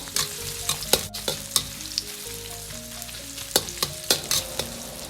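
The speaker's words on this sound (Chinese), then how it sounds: "接着下入姜蒜片和小米辣" Sliced ginger, garlic and small chilies stir-fry in hot oil in a wok, with a constant sizzle broken by repeated sharp scraping clatters of the spatula, close and clear, with no talk.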